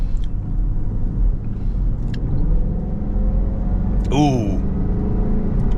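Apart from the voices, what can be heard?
2006 Range Rover Supercharged engine with supercharger whine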